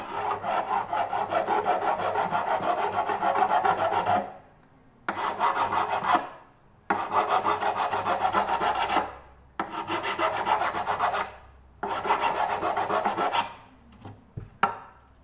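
Soft nickel frets on a Yamaha FG300A acoustic guitar are filed by hand in loud, close, rasping strokes, running in several sustained bursts separated by short pauses, with no talking.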